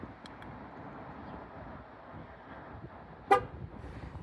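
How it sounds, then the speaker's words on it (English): A single short car horn toot from a Chevy Silverado or GMC Sierra during tire pressure sensor relearn sounds once near the end over a steady low background rumble, with no other distinct events. "once you've gotten all of those honks, you'll get the double honk at the very end"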